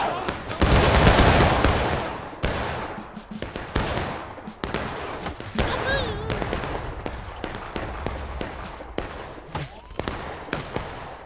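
Soldiers in a war video game fire volley after volley of gunfire, loud close cracks and rattling bursts in rapid succession, with shouted voices mixed in between the shots.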